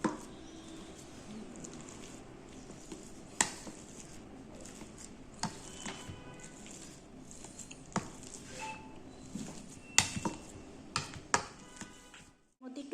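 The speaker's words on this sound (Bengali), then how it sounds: "এবার আলু সিদ্ধটাকে ভালো করে আমরা ম্যাশ করব গরম থাকতে থাকতে এটাকে ম্যাশ করতে হবে" Hot boiled potatoes are mashed in a bowl with a utensil, giving soft squishy presses and repeated faint clinks and taps against the dish, close and quiet with no talking.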